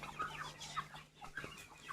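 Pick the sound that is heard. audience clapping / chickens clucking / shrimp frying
chickens clucking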